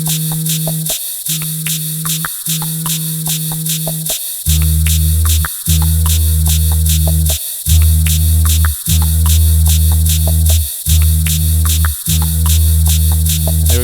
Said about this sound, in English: I actually layer 3 guitar to basses on top of itself.